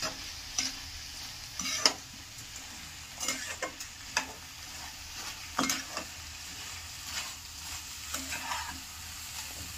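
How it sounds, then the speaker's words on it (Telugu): Soaked basmati rice frying and being stirred in a pan, a steady soft sizzle broken by repeated scraping stir strokes, close and moderately quiet with no voices. "1 గంట సేపు నానబెట్టుకున్నటువంటి బాస్మతి రైస్ని కూడా ఇందులోకి వేసుకొని ఒక 5 మినిట్స్ అలా ఫ్రై చేయాలి"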